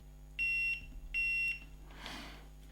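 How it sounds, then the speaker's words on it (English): Two sharp electronic beeps in quick succession, close and clear, followed by a faint rustle. "Very much hoping for a beep."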